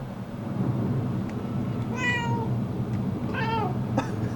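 A cat in the video game Murdered: Soul Suspect meows twice over a steady rumbling ambient bed with distant thunder-like noise, followed by a short third mew at the end.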